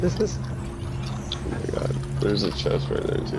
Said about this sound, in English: Hey, there's a wolf there. Careful, he might kill you.